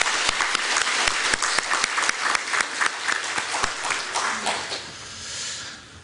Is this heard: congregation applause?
yes